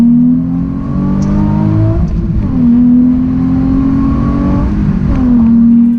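A 2008 Nissan 350Z with a six-speed manual revs steadily, its engine note rising and falling in two long sweeps and a third, loud and close, with no talking.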